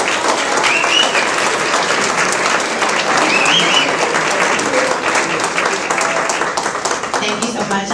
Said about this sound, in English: Everybody please give a round of applause for our Civil Rights Director, Michelle Phillips